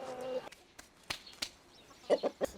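Chickens in a well-fed backyard coop clucking close by, a few short, scattered clucks and a quick burst of three near the end, faint rustling between.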